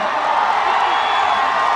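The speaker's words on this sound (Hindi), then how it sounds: "जोर से तालियां।" A large crowd cheers and applauds continuously at a Khesari Lal public show in Hyderabad, a dense steady roar of clapping and shouting throughout.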